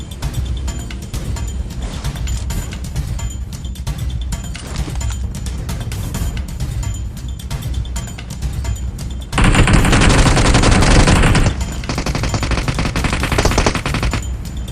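Rapid automatic gunfire in PUBG Mobile, dense bursts of shots rolling on continuously and growing louder and harsher near the end, with no voices.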